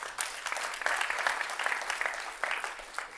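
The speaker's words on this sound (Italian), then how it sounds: "benvenuto un applauso" An audience applauds to welcome a speaker at a Microsoft talk during the Var Evolution event in Florence, a dense, steady wash of clapping lasting a few seconds at moderate distance.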